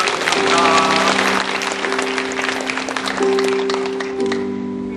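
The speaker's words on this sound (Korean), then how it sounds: "한번 감사의 박수 한번 드리겠습니다" A church congregation gives a round of thankful applause, steady clapping filling the sanctuary for about five seconds over sustained held keyboard or organ tones.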